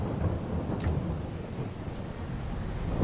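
Rain and thunder in Farming Simulator 22: a dense, steady downpour with a low rolling rumble of thunder underneath, continuous and fairly loud throughout.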